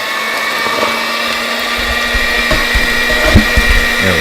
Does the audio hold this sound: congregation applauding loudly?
no